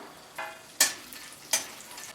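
Whole spices such as mace, green and black cardamom dry-roasting in a pan over medium heat for Kolhapuri onion-garlic masala, three brief scraping stirs rustling up close against a faint background, with no voices.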